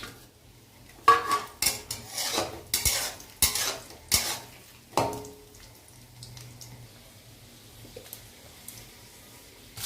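Cashews and then raisins being fried in a pan, a burst of quick metal spoon scrapes and clinks in the first half, then only a faint low sizzle, close by.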